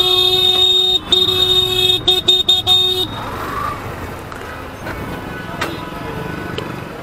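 Dense traffic crawls along a busy market street in Patna, with a cluster of loud, close car horns honking in quick bursts, then rumbling engines and road noise carrying on beneath scattered later toots.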